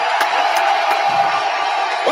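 A wrestling arena crowd at a live televised event keeps up a loud, steady roar of cheering and shouting, with scattered whoops rising out of the sustained din and a voice faintly underneath.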